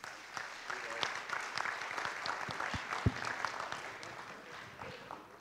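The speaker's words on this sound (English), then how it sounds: "please, a big applause for our wonderful panel" Steady applause from a conference audience for a panel at a plenary session on green technology and business, with sustained dense clapping at moderate volume throughout and a faint voice beneath it.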